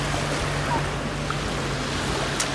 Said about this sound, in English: Jump over the waves.